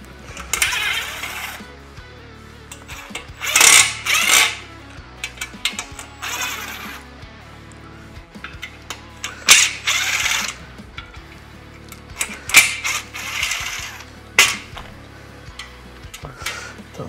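Screws being backed out of the handle on a Temple Audio pedalboard, heard as bursts of whirring driver noise and small metallic clicks and rattles of hardware, close by with short pauses between them and no talk.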